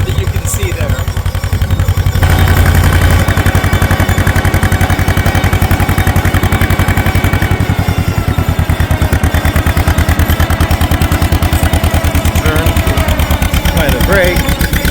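A 1950 John Deere M tractor's two-cylinder engine runs steadily while planting oats in a field, a loud, rapid, even chugging beat that carries on for the whole stretch, close to the listener.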